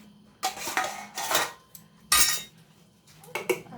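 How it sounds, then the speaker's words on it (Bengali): Ceramic and steel dishes clink and clatter while rice is served onto plates at home: four or five sharp, close bursts of scraping and knocking, separated by brief quiet gaps. "আর এই যে ভাতও বেড়ে নিচ্ছি বন্ধুরা।"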